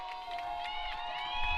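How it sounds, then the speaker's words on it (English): A football stadium crowd at a St. Andrews versus Point senior day game roars on a big third down, with sustained distant crowd noise and a droning horn-like tone swelling slightly toward the end. "The crowd trying to make as much noise as possible to get behind the defense and make the stop."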